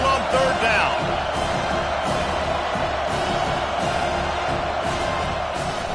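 Home crowd at a football game roars steadily as the defense tries to get off the field on third down, a dense, loud wash of cheering that holds throughout under a commentator's voice.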